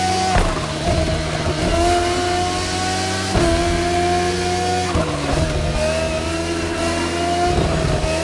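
A racing car engine at full throttle in The Crew Motorfest, loud and close, its pitch climbing steadily through each gear before dropping sharply at the shifts, repeating several times.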